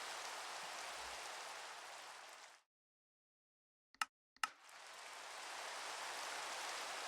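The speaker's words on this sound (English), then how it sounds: "Can it stop raining?" Rain falls in Minecraft as a steady, dense hiss that cuts out abruptly for a moment, broken by a couple of brief clicks, before the downpour fades back in.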